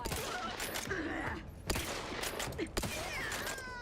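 Bursts of sci-fi gunfire crackle in The Outer Worlds 2, with clustered rapid shots and sharp cracks layered over a dense combat din, loud and close.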